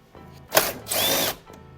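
A power drill driving screws into the fog light bracket of a 2024 Toyota Tacoma: two short close whirring bursts, the second longer and steady, with no talking.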